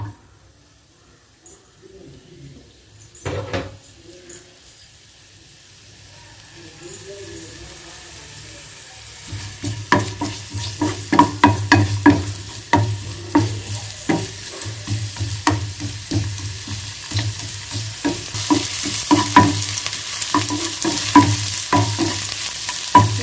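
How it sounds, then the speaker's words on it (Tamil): Veld grape (pirandai) pieces sautéing in sesame oil in a pan, starting quiet before a loud burst of sizzling and sharp spatula scrapes and clinks that continue steadily near the microphone. "இப்போது பிரண்டையை போட்டு நல்லா வதக்கி எடுத்துக்கோங்க."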